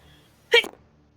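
A single short, sharp sneeze bursting out close by in a quiet room during a tabletop game session, loud and brief against near silence.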